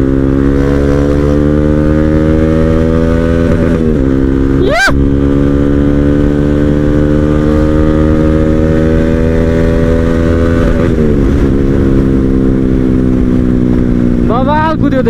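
A motorcycle ridden at speed on the road to Dhulikhel, its engine a loud, close, sustained drone that dips and climbs again at gear changes around a third and two-thirds of the way through.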